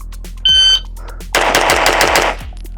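After a short electronic shot-timer beep, a 2011 pistol, the Infinity Peanut Butter Cup with a 5-inch solid steel slide, fires a fast string of sharp, loud shots in about a second.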